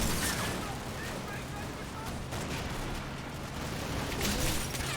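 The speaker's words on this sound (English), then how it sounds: "accurate British rifle and machine gun fire is taking its toll on" British rifle and machine-gun fire in the WW2 game Combat Mission: Normandy, a steady, dense crackle of overlapping shots and bursts under continuous battle noise, with a narrating voice mixed in.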